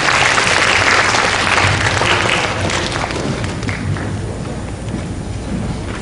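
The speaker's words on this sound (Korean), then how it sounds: "다시 한번 박수 부탁드립니다." Newly enrolled high school students applaud a guest lecturer from the National Assembly. The clapping starts loud and full, then thins out and softens over about six seconds.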